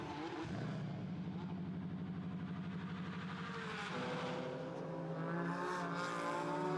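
GT4 race car engines, mostly Porsche Caymans, roar continuously and loudly between the walls of the Jeddah street circuit, a dense buzzing drone that shifts pitch as cars pass, with a rising rev toward the end.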